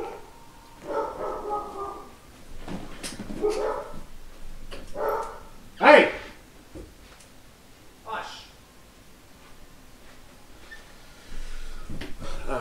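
Dogs bark outdoors in a few scattered bursts, some sharp and loud, others farther off and fainter, with quiet gaps between them and someone talking indoors.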